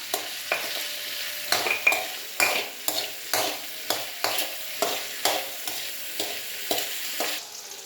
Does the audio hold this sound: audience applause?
no